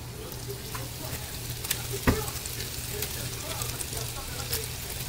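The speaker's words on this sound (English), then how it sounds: "we're going to toss the shrimp in" Shrimp hit a hot pan for a mango shrimp sauté, setting off a continuous close sizzle with a sharp crackle as they land and light stirring noises throughout.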